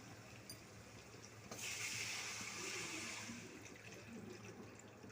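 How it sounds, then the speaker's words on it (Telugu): Water pours from a container into a cooking pan of softened tomato and onion pieces for tomato upma, a quiet, steady splashing that rises in the middle and then settles back. "ఇప్పుడు ఇందులో మనం వాటర్ పోసుకుందాం."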